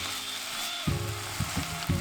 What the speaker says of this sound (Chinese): 接下来是加入我们刚才切好的番茄丁